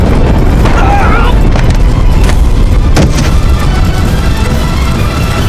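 Cannon fire booms through a battle scene, with heavy blasts and noisy rumbling spread over a loud, dense background of chaotic battle sound.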